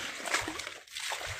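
Feet splash and slosh through deep, flooded puddles outdoors, a continuous, fairly faint wet churning with no voices.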